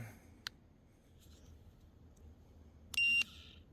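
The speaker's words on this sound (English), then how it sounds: "Just one quick little beep" One short high electronic beep from a Homcolorful ultrasonic dog bark deterrent sounds near the end, brief and sharp, over a faint quiet background with a small tick earlier.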